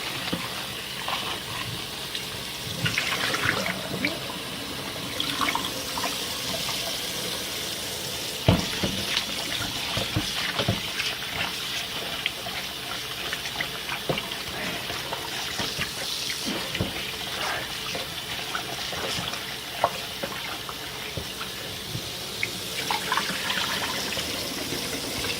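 Cold tap water runs steadily into a kitchen sink while raw chicken is washed with a little vinegar, giving a continuous splashing hiss with scattered clinks and knocks.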